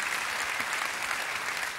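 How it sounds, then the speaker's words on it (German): Studio audience on a German game show breaks into loud, dense applause, a continuous wash of clapping hands that fills the whole short stretch. "Jetzt nochmal ein richtiger Applaus."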